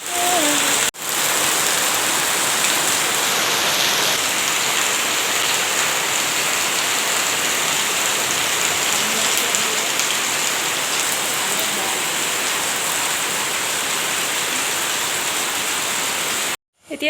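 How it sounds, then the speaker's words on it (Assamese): Heavy rain pours down continuously for about seventeen seconds, a dense, loud, unbroken wash of noise with no voices. "কাৰণ ইমান বৰষুণ দিছে।"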